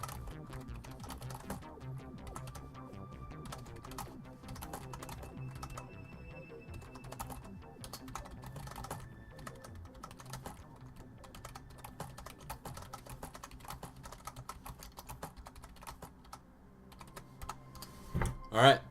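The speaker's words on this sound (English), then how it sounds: "hopefully that gives you some kind of idea of how loud the keyboard is" Steady typing on a Strike 7 computer keyboard, a dense run of close, sharp key clicks with a fast uneven rhythm and a louder flurry near the end; quiet talk runs underneath.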